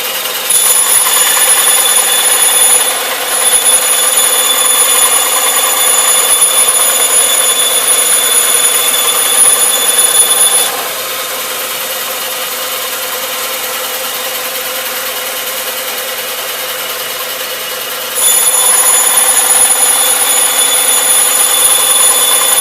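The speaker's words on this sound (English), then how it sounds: "The saw's going to be a little loud" Power saw cutting a custom microphone case, a loud continuous whine that drops to a lower idle in the middle before rising again to full cutting pitch.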